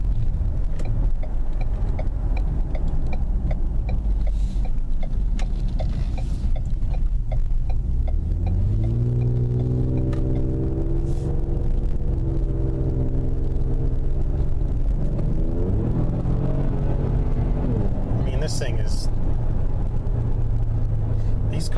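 A Ford Explorer Sport with a Borla exhaust drives in sport mode, its engine droning steadily, then rising in pitch through gear changes with a deep, loud exhaust note from inside the cabin, as someone talks briefly.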